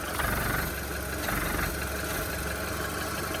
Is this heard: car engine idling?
yes